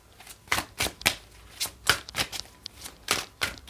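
Tarot cards are riffled and shuffled close up in a quiet room, giving crisp papery bursts at an irregular, brisk rhythm with short gaps between them.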